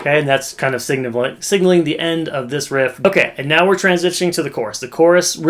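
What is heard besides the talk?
None of the usual background noises is heard.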